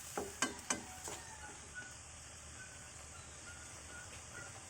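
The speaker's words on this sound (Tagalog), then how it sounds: "haluin ang mais." Corn being stirred in a pan for pork adobo, with a few quick scraping strokes near the start over a steady frying sizzle that continues alone.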